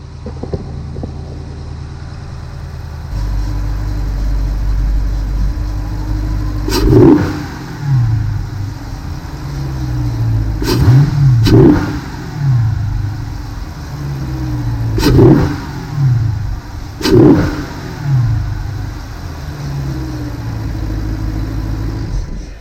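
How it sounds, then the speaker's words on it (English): A Mopar car engine fitted with a cold air intake idles low, then revs up sharply several times with a throaty intake roar, each burst dropping back to a steady idle. "I'll rev it up a little bit so you can hear how the cold air intake sounds"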